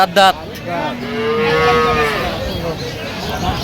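A dairy cow moos at a cattle market in Aftabganj, Dinajpur, where cows and calves are sold: one long, close, drawn-out moo over faint market murmur.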